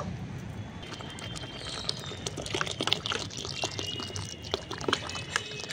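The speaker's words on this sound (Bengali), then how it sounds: "এখন আমি ডালের মধ্যে একটু জল দিয়ে দেব" Water poured into a pot of boiled lentils for dal, a faint, steady trickle and splash lasting a few seconds, with light clinks in the background.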